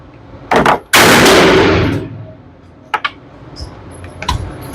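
A Maxim Defense PDX rifle in 300 Blackout fires outdoors at a range: a few sharp, loud cracks open a longer burst of rapid shots. Quieter clicks and metallic handling noises follow.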